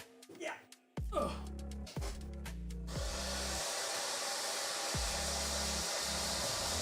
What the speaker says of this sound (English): Just gonna get the hairdryer on this bad boy.